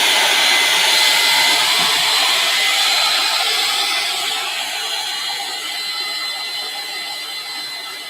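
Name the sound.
hair dryer blow drying mural paint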